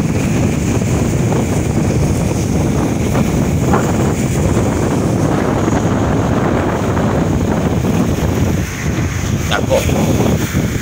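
Big sea waves churned by Typhoon Uwan roll along the Ozamiz shore, a constant loud roar with heavy wind buffeting the microphone.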